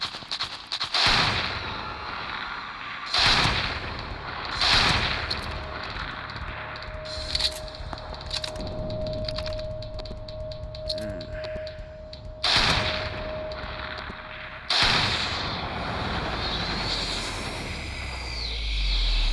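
Gunfire in a video game: repeated sharp shots at uneven intervals, some in quick bursts, loud against a steady background hum, with no talking.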